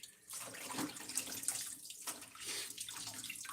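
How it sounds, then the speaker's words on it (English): Water runs steadily from a tap while the plastic top of a butter container is rinsed and washed at a sink, a continuous close splashing with brief surges. "This top need to be washed. Wash it."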